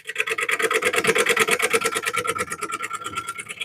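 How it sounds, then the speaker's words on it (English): A sharp woodworking gouge cutting into wood, producing a rapid, rhythmic rasping scrape of repeated short strokes that runs steadily throughout, close up and with no talking. "This is where the use of a good gouge is just invaluable."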